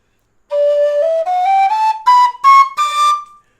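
A tin whistle plays a rising run of clear, pure notes, stepping up one by one through the scale, close and loud, heard alone with no talking.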